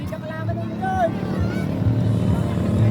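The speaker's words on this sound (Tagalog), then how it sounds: "Yung makina lang niya naririnig." A racing boat engine drones loudly and steadily close by at a boat race, its pitch rising and falling, while several people talk and shout over it.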